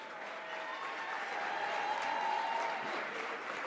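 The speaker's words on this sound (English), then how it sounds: "are clapping it up for the Big Spring Bulldogs as they're introducing their starting lineup" Fans in a high school gym clap steadily during the starting lineup introduction at a District 3 basketball game between West York and Big Spring, a dense wash of applause with some crowd murmur.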